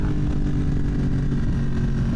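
Yamaha MT-10 motorcycle engine running steadily while riding, a continuous low rumble with a constant drone, close and loud throughout, with no voices.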